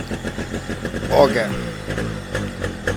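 A used motorcycle engine at a bike dealer in Kollam starts and then idles with a fast, steady, near putter beneath close conversation, swelling briefly as it catches.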